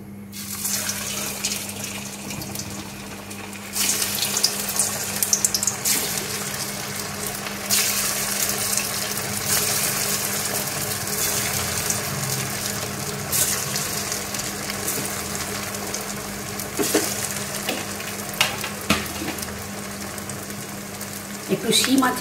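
Semolina chicken pakoras fry in a pan of oil, a loud, continuous hiss and bubbling sizzle that holds steady for over twenty seconds while someone talks over it, with a low steady hum beneath.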